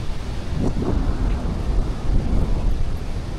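Strong wind from a storm on a coastal spot in Real, Quezon roars and buffets the microphone steadily, a dense low rumble with no voices.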